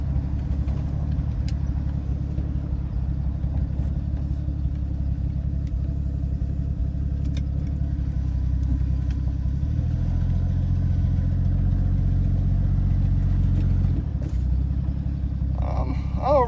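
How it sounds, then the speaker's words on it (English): A 1982 Ford F-150 with an inline-six engine drives steadily, its low engine rumble and drone continuous and close throughout, with a slight shift in tone partway and a brief higher squeak near the end. "You guys can hear the old inline 6 purr a little bit better."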